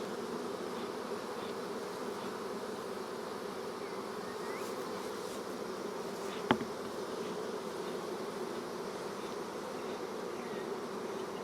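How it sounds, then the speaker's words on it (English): A dense, steady hum of many honey bees buzzing around a hive, continuous and close, with one brief click partway through. "Just shoo these bees off."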